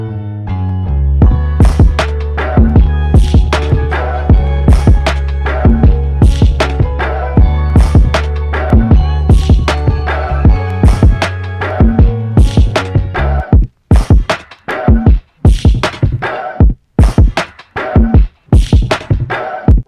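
An experimental, off-kilter programmed drum beat plays loud and alone, dense sharp hits over a sustained deep bass layer that drops out partway, leaving choppy, irregular percussion with abrupt gaps.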